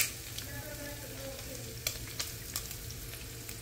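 Gizzards stirred in a pot after a tablespoon of olive oil is added, a steady low sizzle with a few sharp scraping clicks of the spoon against the pot.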